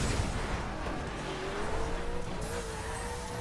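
Alfa Romeo 8C Competizione in The Crew, a steady engine drone rising in pitch as the car accelerates through the gears, with faint tire noise and a high whine entering later, continuous and close throughout.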